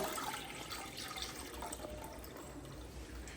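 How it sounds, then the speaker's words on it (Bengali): Water pours steadily into a cooking pot ahead of boiling taro stolons, a close, continuous splashing rush with no voices. "তার জন্য আমি এখানে জল দিয়ে দিলাম"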